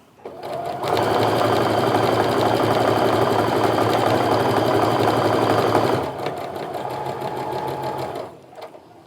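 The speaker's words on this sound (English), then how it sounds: "I'm going to go ahead and sew the other piece to the other side" A domestic sewing machine runs in one steady, loud burst stitching quilt fabric pieces together, holding an even mechanical whir for about five seconds before easing into a lighter run and stopping.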